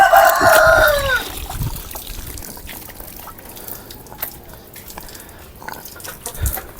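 Chickens on a farm, with a rooster giving one loud, close crow at the start, then scattered clucks and faint farmyard clatter.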